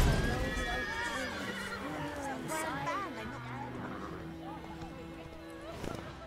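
Roach, a horse in The Witcher 3, neighs and whinnies several times near and loud, with hooves shuffling beneath and background commotion.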